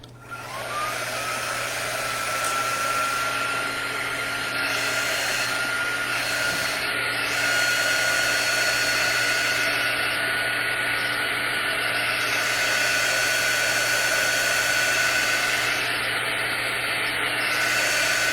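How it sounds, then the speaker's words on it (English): A heat dryer blows steadily on a DIY fall door sign with a loud, constant whooshing hum, running without pause. "I'm going to hit it with the dryer again"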